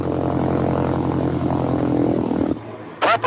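A propeller airplane engine drones loudly and steadily during a rejected takeoff on a runway, then cuts back abruptly, leaving a quieter rumble and a brief burst of noise at the end.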